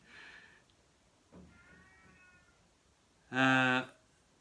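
A cat meows several times from outside a door, trying to get in: a short soft call, a drawn-out one, then a loud insistent meow, slightly muffled.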